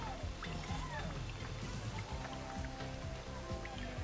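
Heavy rain falls in the video game Astro's Playroom, a faint steady patter with a rhythmic run of soft low thumps beneath it.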